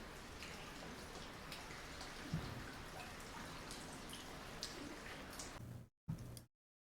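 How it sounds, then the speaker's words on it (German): Rain running down window panes, a soft continuous patter with scattered close drips and light taps, fairly quiet, dropping to near silence at the end apart from a few isolated drops. "Hier habe ich ein Video gewählt, wo man Fensterscheiben sieht, wo der Regen hinunterrinnt"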